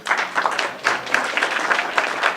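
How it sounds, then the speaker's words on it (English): Crowd applause at a stand-up comedy show, honouring the comedians who performed earlier: lively, close clapping with distinct individual claps pulsing through a continuous wash of hands. "I want y'all to give the comments y'all saw before me a round of applause"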